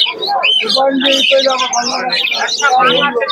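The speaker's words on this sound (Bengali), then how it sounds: "এখানে এই দাদার কাছে খুবই সুন্দর সুন্দর পাখির কালেকশনও আছে" Pigeons and assorted birds calling and chirping densely at the Beldanga pigeon market in Murshidabad, a continuous close chorus of tweets and calls with voices mixed in.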